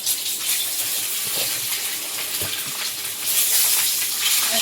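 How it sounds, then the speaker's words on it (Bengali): Whole eggs fry in hot oil with a dense, crackling sizzle that runs steadily and close by, swelling slightly louder toward the end. "তেল দিয়েছি এবার ডিমগুলো ভাজবো"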